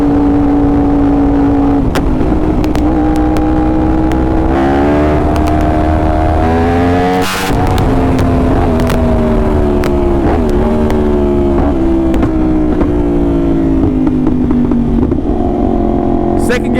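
A Yamaha R1 superbike accelerates hard through the gears during a wheelie, its engine roaring loud and close with rising revs, a sharp gear change midway, then climbing again while wind noise and a voice sit underneath.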